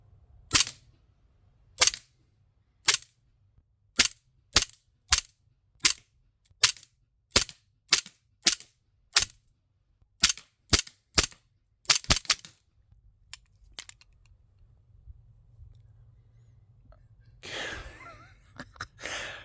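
Repeated shots from CO2-powered 4.5mm BB 1911-style pistols, about eighteen sharp cracks fired at a steady pace, close and loud, followed by a brief rustling tail.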